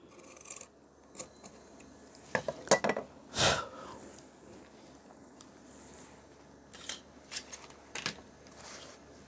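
Scissors cut through trouser fabric at a tailor's cutting table, giving quiet rasping snips and scrapes in irregular bursts with a few louder sharp clicks, close and fairly faint, with no talk.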